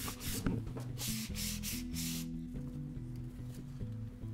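Sanding a dried enamel layer on a bridge workpiece with 280 grit sandpaper: a steady, close scratchy rubbing that runs continuously with rhythmic back-and-forth strokes, with faint tonal workshop hum underneath and no talking.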